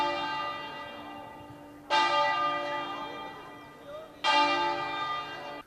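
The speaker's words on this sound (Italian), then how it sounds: "Tutte le chiese della diocesi hanno suonato le campane a lutto" Church bells of the Treviso diocese tolling in mourning just before midday, two loud struck peals a couple of seconds apart, each ringing out and slowly decaying.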